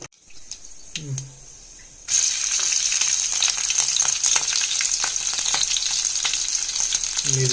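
Mustard seeds hit hot oil for a Marathi wild banana flower bhaji and break into a loud, steady sizzle with dense crackling and popping that runs without a break to the end.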